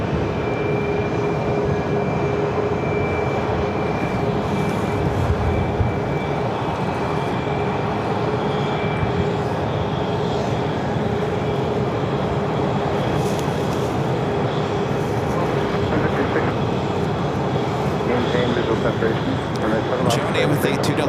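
A Southwest Airlines Boeing 737-700 bound for Salt Lake City at Phoenix airport, a sustained jet roar with a faint steady whine, continuous and moderately loud, with a voice talking over it.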